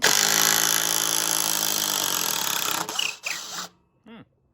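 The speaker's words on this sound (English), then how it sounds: "This Black & Decker. Let's just see what it can do on these larger lags." Black & Decker Matrix impact attachment backing out large lag screws from wood, a loud steady whirring hammer rattle for about three seconds that stutters and cuts off, then a brief final burst.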